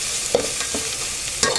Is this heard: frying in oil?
yes